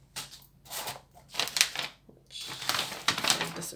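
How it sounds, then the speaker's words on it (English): Several crisp snipping and cutting bursts of scissors through paper, close by, in short clusters with brief pauses between them. "So I'm just going to wrap it like this and trim it with my scissors."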